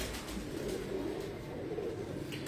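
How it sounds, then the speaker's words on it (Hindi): A teddy pigeon brought from Dubai coos softly and continuously, a low murmuring warble heard close against a faint background. "ये टेडी कबूतर है जी, अहमद कंबर साहब की तरफ से आया दुबई से"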